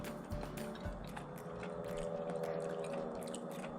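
Close, steady chewing of freshly fried wild chanterelle mushrooms, still steaming, with soft crunchy and squishy bites repeating in an even rhythm, no talking over it.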